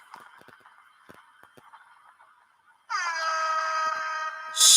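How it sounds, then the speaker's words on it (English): A loud, sustained air horn blast kicks in abruptly after a stretch of faint clicks, holding steady and swelling louder at the end. "let's give it a little air horn for this."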